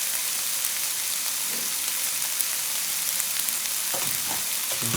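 Tomato concentrate frying in a pan for a simple Bolognese: a steady, loud sizzle throughout, with a few soft scraping stir sounds near the end.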